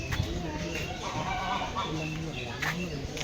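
Guinea fowl call with harsh, clucking cries, repeated and close, mixed with other bird noise and some talking in the background.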